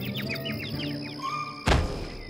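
Small birds chirp in quick, repeated high tweets in a Bee Movie video game scene, over a low background hum, followed by a sudden dull thump near the end.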